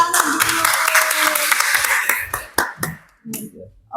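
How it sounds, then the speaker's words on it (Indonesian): A small group gives a short burst of applause in a school podcast studio, quick clapping that thins into a few scattered claps and then stops. "Tepuk tangan dulu."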